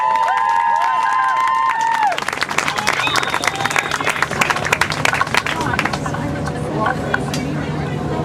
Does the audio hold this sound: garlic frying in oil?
no